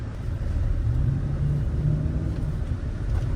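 A car's engine rumbles steadily as it drives and accelerates, a close, continuous low roar with no talk over it.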